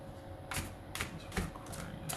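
A few quick, papery riffles of tarot cards shuffled close by, in short bursts over a low steady hum.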